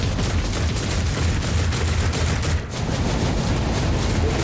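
Defensive turrets firing in the video game Rogue Trader, a loud, dense and continuous barrage of rapid gunfire that barely lets up for the whole stretch, with no speech.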